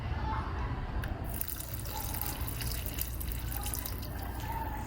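Water poured from a container onto blooming snapdragons and pansies in a garden; a steady, soft trickling and splashing beneath a low background rumble, with faint dripping.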